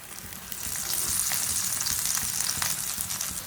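Rice flour roti frying in oil on a pan, giving a steady, moderately quiet sizzle with faint crackles that carries on evenly with no voices.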